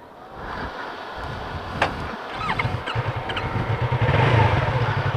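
Yamaha MT-03 motorcycle riding on a country road, its engine a steady, moderately loud drone that grows busier and louder toward the end, with wind rush over it.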